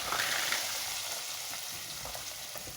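Semolina sizzles and fries steadily in hot ghee, a dense, even crackle that holds close and loud with no voices over it.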